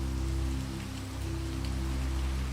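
Rain patters steadily on a stormy night at a manor, a dense even shower of drops over a low sustained musical drone that holds throughout.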